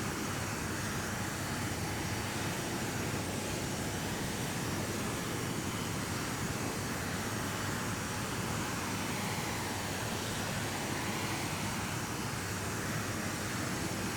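A Boeing B-47 Stratojet takes off in the P3D flight simulator game, its jet engines producing a steady, loud roar with broadband rushing noise that holds constant throughout, with no voices.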